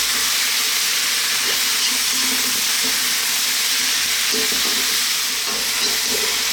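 Potatoes with tomatoes and spice powders dry-frying in a pan while being stirred, a loud, steady close-up hiss and sizzle with faint scraping of the stirring underneath, heard without talk.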